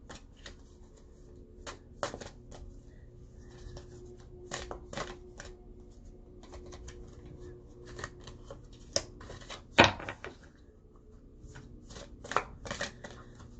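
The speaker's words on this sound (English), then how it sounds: "Let's go ahead and just get advice cards out while we're here." Tarot cards being shuffled by hand, a long run of quick, close riffling and flicking bursts with short pauses between, a louder snap near the middle, and no talking.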